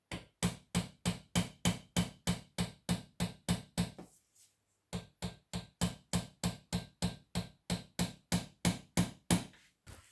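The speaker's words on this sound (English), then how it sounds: "I'm actually gonna have to use a hammer and pop it back in place." Repeated hammer blows knock a part of an old bicycle dropper post back into place, a steady series of sharp, evenly spaced strikes, pausing briefly midway before resuming at the same rhythm; close and isolated with no talking.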